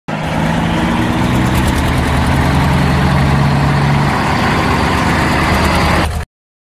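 A bulldozer engine idles with a steady low rumble and diesel clatter, close and loud, holding constant for about six seconds before cutting off abruptly.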